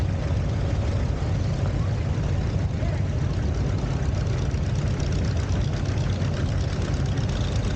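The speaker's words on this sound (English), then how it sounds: "Jerry Anderson of Sanborn, driving his dad's 1957 Ferguson 40, rated at 30 horsepower." A 1957 Ferguson 40 tractor rated at 30 horsepower idles with a steady low engine rumble and faint knock, its even chugging running unbroken beneath an announcer's voice at an outdoor tractor show.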